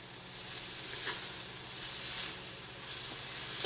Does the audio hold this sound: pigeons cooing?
no